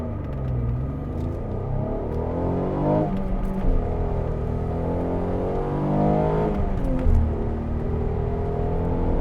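An Alfa Romeo 147 GTA engine pulls hard from a standstill toward the redline, its deep rumbling note climbing in pitch through repeated upshifts, heard close and loud from inside the car.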